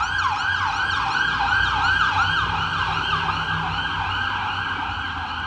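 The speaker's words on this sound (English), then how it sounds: "Ambulance and shit messing up my vid." An ambulance siren passes outside, its wailing up-and-down tone sweeping steadily and loudly throughout with no talking, traffic rumble faintly underneath.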